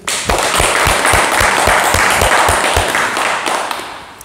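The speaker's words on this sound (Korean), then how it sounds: "좋은 질문하신 우리 대명님께 박수 부탁드립니다." Audience applause fills a talk session after a good question, a loud dense wash of many hands clapping steadily from start to finish, with a few sharper claps standing out before it thins slightly at the end.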